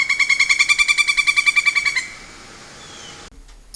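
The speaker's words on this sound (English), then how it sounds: "I love waking up to the sound of the birds." A rapid, evenly pulsed bird call repeats for about two seconds, then stops, leaving quiet outdoor background.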